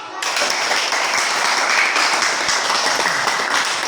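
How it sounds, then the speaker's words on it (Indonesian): A class of students in a school lesson breaks into loud, sustained applause. The dense clapping starts abruptly and continues steadily to the end, with voices mixed in. "Kasih tepuk tangan."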